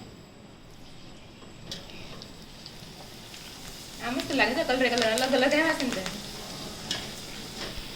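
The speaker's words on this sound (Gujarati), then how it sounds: "તો હવે આપણે ભૂંગળા તળી નાખીએ." Bhungla snacks crackle and sizzle in hot oil with a steady bubbling fry, loud and close, as someone stirs and a woman chats over it.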